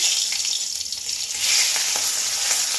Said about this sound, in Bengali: ফোড়ন দিয়ে দেবো এই তেজপাতা দেবো তিনটে তেজপাতা দিচ্ছি